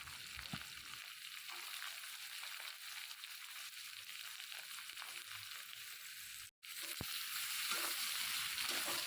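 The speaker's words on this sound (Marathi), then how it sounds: "कांदा तेलामध्ये छान परतून घ्यायचा आहे" Finely chopped onion sizzles in oil with fried garlic for spinach, a steady moderate crackle with occasional stirring, briefly cut off once before resuming a little louder; no voices.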